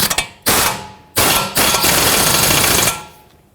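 An impact wrench runs down a castle nut onto a tie rod stud on a 2003-2008 Toyota Corolla front knuckle, loud and close, in several rattling bursts, the last one long and sustained.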